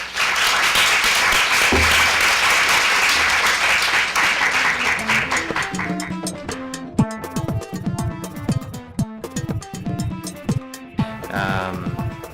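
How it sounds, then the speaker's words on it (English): A large audience at a PechaKucha Night event in Los Angeles bursts into loud, dense applause that gradually thins into scattered individual claps, welcoming a guest speaker. "Everyone please give a big round of applause to Akira Uchimura."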